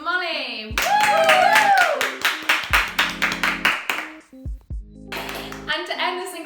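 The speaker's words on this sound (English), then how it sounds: "Let's give a socially distanced and pre-recorded round of applause for Molly" Pre-recorded applause in a lockdown setting: a burst of clapping and a whoop, then separate rounds of clapping that start and stop abruptly, with talking voices over them.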